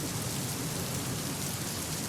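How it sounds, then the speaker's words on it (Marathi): Heavy monsoon rain pours down in Mumbai as a dense, unbroken roar of broadband hiss that holds a constant level throughout, with no voices over it. "मुसळधार पाऊस कोसळत आहे"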